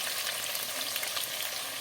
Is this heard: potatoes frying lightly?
yes